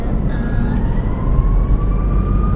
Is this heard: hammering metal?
no